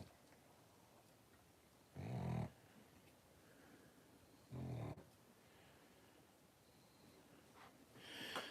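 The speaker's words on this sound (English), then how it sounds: "You guys want to see the pug that's snoring?" A pug snoring indoors: two loud, broad snorting rasps about two seconds apart, with a third starting at the end, over a quiet room background.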